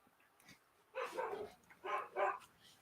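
A dog barks in a few short bursts, moderately loud against a quiet background, with no one talking.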